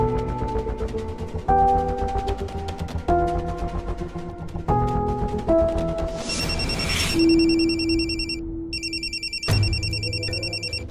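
A telephone rings unanswered: a melodic ringtone repeats its tune several times, then shifts to bright electronic trilling bursts, loud and close with no voices over it.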